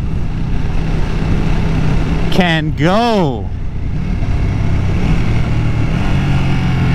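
A 2020 Ducati Panigale V2 twin-cylinder engine revs up sharply and falls away in a single loud burst, rising and dropping in pitch over a steady rumble, with someone speaking close by before and after.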